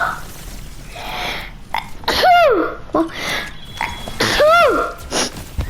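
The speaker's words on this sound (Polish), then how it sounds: "O człowieku, ale to był kich." Two loud, close sneezes, each with a sharp intake and a sudden burst, with smaller breathy sounds between them.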